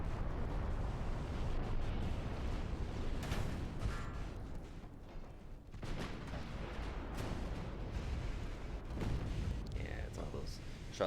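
Naval gunfire and shell explosions from the Italian ship Gloria in an Ultimate Admiral: Dreadnoughts battle against Austria give heavy, rumbling booms and bursts that recur over a continuous roar, with a voice over them at times.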